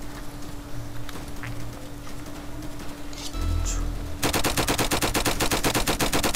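Gunfire in the Roblox game Flag Wars: a fast, loud burst of rapid repeated shots erupts near the end after quieter game ambience and a low hum.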